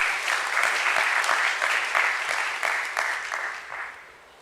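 A crowd at a stock listing ceremony applauding steadily, dense clapping from many hands that holds for several seconds before gradually thinning and fading out.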